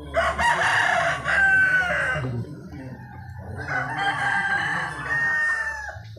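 Chickens cluck and a rooster crows inside a chicken coop as the birds are moved to new housing; two long, loud crowing bursts stand out over steady clucking, with no talking.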